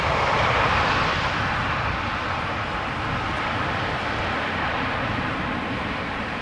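A KLM airliner returning from Paris Charles de Gaulle roars past at Amsterdam Schiphol. The engine noise is steady and broad, loudest at the start and easing slightly as it continues.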